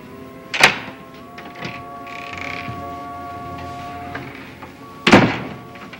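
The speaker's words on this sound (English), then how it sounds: "You didn't come banging on my door to ask about my phone, did you?" A few heavy thuds against a wooden door, two loud knocks about four seconds apart with a creak and steady mechanical hum between them, fairly close.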